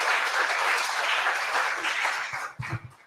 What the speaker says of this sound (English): please give everyone a big applause